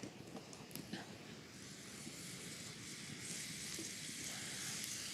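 Bacon sizzles in a pan over an open campfire, a steady broadband hiss and crackle running continuously at moderate level with small pops near the start, no talk.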